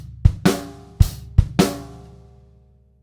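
A drum kit plays one rock bar, with hi-hat quarter notes over shuffled bass drum upbeats. About five sharp hits sound close and loud, and the last one rings out.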